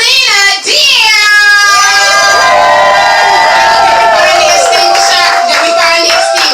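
A packed open mic poetry show crowd whoops, cheers and claps loudly and continuously for a performer being brought to the stage, with shrill shouts and screams riding over sustained applause throughout.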